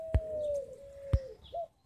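Pigeons flutter and coo outdoors, with two sharp wing claps amid a steady whistling tone; no one speaks.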